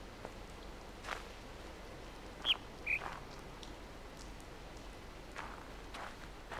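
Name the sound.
bird calling on the island in The Witness video game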